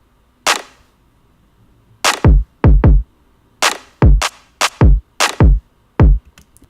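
Kick drum and clap-based snare from a hip-hop beat playing together, a repeating pattern of deep booming kicks in quick pairs and triplets alternating with sharp crisp clap snares, loud and dry with no talking.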